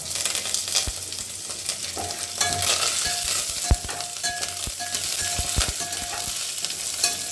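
Green chillies and curry leaves fry in hot oil for coconut rice, crackling and spitting loudly and close with sharp pops and spatters over a constant sizzle and no talk.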